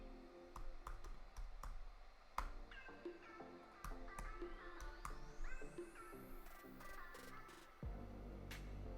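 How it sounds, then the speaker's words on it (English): Clicking of a computer keyboard as a name is typed, scattered sharp key taps at a quiet level with background tones and no talking. "So I'm just going to type in my name."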